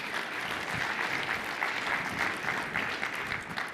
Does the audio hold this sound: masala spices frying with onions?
no